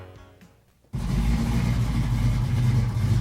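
Dodge Challenger muscle car engine bursting into a loud, deep rev after a moment of quiet, then holding a rough, throaty roar close by.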